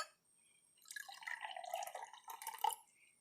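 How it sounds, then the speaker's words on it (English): Water poured into a clear glass for a layered density experiment, a soft steady trickle and splash lasting about two seconds, close and fairly quiet, with no talking. "I'm going to be pouring these different solutions into our clear glass."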